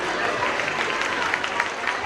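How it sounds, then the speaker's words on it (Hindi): Applause and crowd noise from an audience at a school event, cheering the nursery class before its performance; dense, steady clapping blended with chatter fills the whole stretch without pause. "जरा दिल खोल के तालियां बजाइए"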